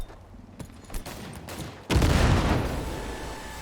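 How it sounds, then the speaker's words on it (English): A muffled burst of gunfire leads into a heavy grenade blast in the shooter game Cyberpunk 2077, a sudden loud boom at mid-clip followed by a rumbling roar that lingers until the end. "2 grenades should be enough to take them out."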